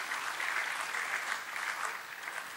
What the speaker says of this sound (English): Please welcome him with big applause.